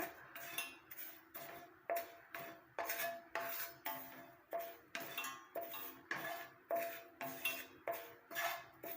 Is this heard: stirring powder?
yes